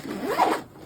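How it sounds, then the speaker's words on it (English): A zipper on a drone storage case for a Ruko F11PRO 2 drone is pulled open in a single quick, raspy stroke lasting under a second, close to the microphone and heard alone. "Zipper goes both ways."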